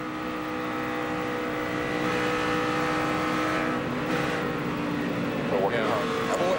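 Engines of 2006 Busch Series race cars at the O'Reilly 300 drone in a continuous, loud roar, pitch rising and falling as cars pass, under steady commentary from announcers talking throughout.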